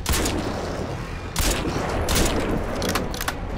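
Gunfire aimed at a heavily armored enemy in the shooter game Crysis 2, loud rapid bursts of shots and booms layered over a dense roar of battle noise.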